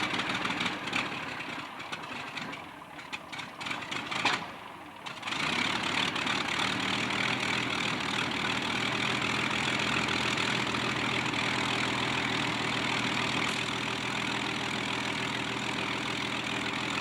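An Allison V-1710 aircraft engine on a chocked, restrained warbird at an airshow goes from uneven starting noise into a steady, loud, continuous run-up roar that holds for the rest of the stretch.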